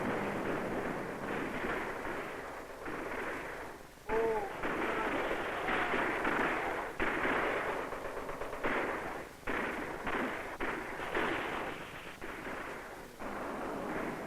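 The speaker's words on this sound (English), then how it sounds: "and the shooting began" Archival film audio of gunfire on the Bay of Pigs invasion beach: a dense, noisy roar of repeated rough bursts and thumps, with no clear pauses.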